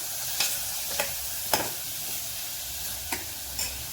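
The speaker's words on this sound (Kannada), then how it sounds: "ಅರಿಶಿನ ಪುಡಿ ಹಾಕಾದ್ಮೇಲೆ ಒಂದು ಸ್ವಲ್ಪ ಹಂಗೆ ಫ್ರೈ ಮಾಡೋಣ" Turmeric powder fries in a pan while a spoon stirs it, a steady sizzle broken by a handful of sharp scraping strokes spaced about half a second apart, close and clear with no talking.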